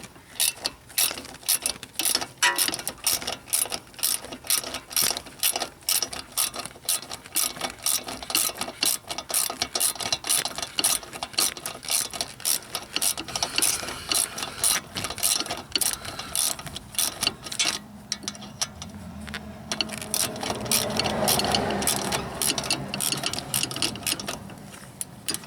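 A ratchet works at a 10 mm bolt on a brake line during lower ball joint work on a 2000-2007 Ford Taurus, clicking rapidly and steadily up close for a long stretch with no talk.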